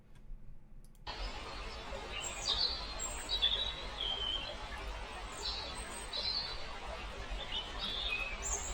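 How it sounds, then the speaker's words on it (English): Small birds chirp and trill intermittently in a forest over a steady low rumble of a flowing small river, with an outdoor ambience that fades in after a second of near silence. "forest with small river birds and nature field recording"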